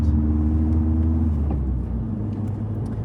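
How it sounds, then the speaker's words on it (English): A Volkswagen Scirocco cruises at night, its engine rumbling low and steady from inside the cabin, with a broad road roar and a slight easing of pitch partway through; no one speaks. "I love driving at night because it's just me in the road."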